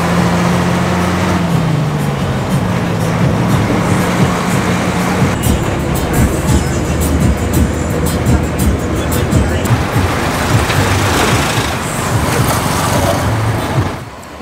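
A bus ride in Sri Lanka: a steady engine rumble and road noise fill the whole stretch, with a low droning tone early on and rattling, clattering bursts through the middle.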